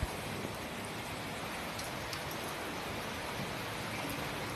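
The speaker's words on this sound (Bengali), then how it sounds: "খুব বৃষ্টি।" Heavy rain falls outside on a rainy morning, a steady, dense, broadband hiss of drops that holds evenly throughout at moderate distance, with no talking.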